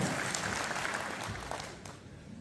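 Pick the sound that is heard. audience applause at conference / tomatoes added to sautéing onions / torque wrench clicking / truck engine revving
audience applause at conference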